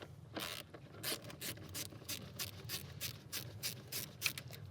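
An 8mm hose clamp between an air box and the air intake is loosened, giving quick, faint ratcheting clicks close up in a quiet space.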